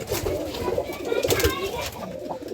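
Jalali pigeons coo in a loft in soft, repeated throaty murmurs, close by, over a background of faint chatter.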